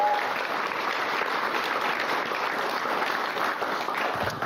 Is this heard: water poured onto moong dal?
no